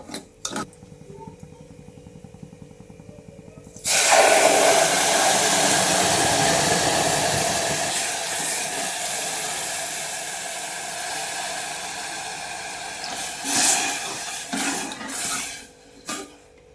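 Water hits a hot ghee-roasted mixture for a sweet dish, and a sudden loud, broad steam hiss takes over after a few quiet seconds, then slowly fades with some stirring bumps near the end.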